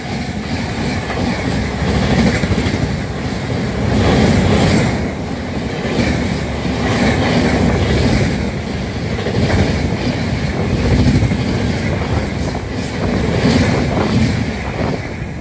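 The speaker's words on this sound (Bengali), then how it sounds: "একটি ট্রেন আসছে, চলো দেখে নেওয়া যাক এক্সপ্রেস ট্রেন না লোকাল ট্রেন।" An express train speeds through Narayangarh railway station toward Balasore, a loud, close rumble with rhythmic clattering surges as the cars pass, plus heavy wind buffeting and no speech.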